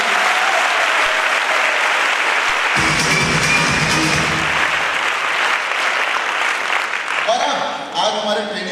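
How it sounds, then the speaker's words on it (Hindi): Loud applause from a hall full of students at a training event in Kanpur, a thick sustained roar of clapping with crowd noise mixed in and some voices cutting through partway along. "एपीएलएल और स्मार्ट वैल्यू के लिए मैं चाहूंगा एक बार जोरदार ताली होनी चाहिए"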